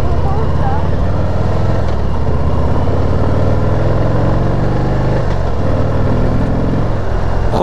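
A 2018 Harley-Davidson Heritage Classic, restricted to 35 kW, pulls away with a loud, close V-twin rumble that rises and shifts through the gears amid wind noise, with a rider's voice audible over it.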